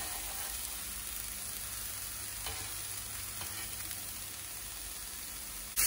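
Mushrooms cooking in a pan give a steady, soft sizzle and hiss with faint crackles and a couple of stirring scrapes, continuous and fairly quiet throughout.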